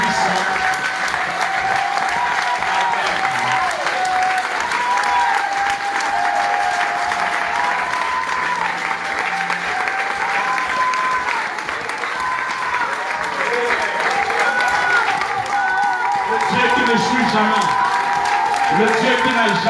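A church congregation applauds in praise of Jesus Christ, a dense, steady wash of many hands clapping that stays loud for the whole stretch, with cheering and raised voices weaving through it.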